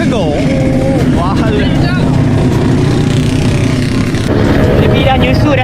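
A Yamaha RXZ motorcycle with a vibrating meter is ridden on the road, its loud, close engine droning steadily throughout while the riders talk over it.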